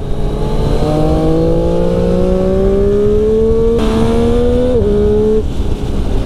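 A 2020 Triumph Street Triple RS on a road and track ride, its engine revving up in one long rising pull through the gear with a brief stumble near the top, loud and close, with no talking.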